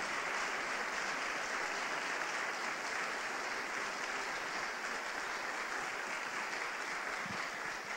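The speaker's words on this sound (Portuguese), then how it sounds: "Dê uma salva de palmas a Jesus" A church congregation at a Portuguese-language worship service applauds in praise of Jesus, a steady, even wash of many hands clapping that holds at a moderate distance for the whole stretch.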